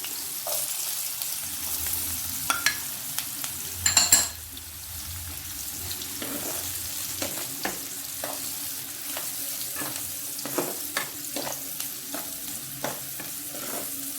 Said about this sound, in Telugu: ఇలా గార్లిక్ని కూడా ఫ్రై చేసుకోవాలి, చిన్నగా కట్ చేసుకొని.